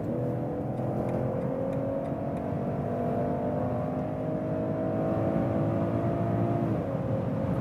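2021 BMW 540i M Sport with its inline six-cylinder accelerating hard in sport mode from around 120 km/h, a steady rising engine drone with a whining tone climbing in pitch, heard from inside the cabin.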